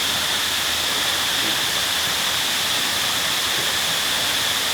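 Steady broadband rush of Sai Noi waterfall in Sai Yok, Kanchanaburi, Thailand, constant and full, with a bright hiss of spray and no pauses or voices.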